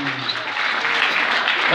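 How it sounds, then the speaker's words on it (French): A crowd applauds the double bass player at a live show, dense sustained clapping that builds slightly louder across the stretch, filling the room with no pauses. "mesdames et messieurs, on peut l'applaudir très très fort."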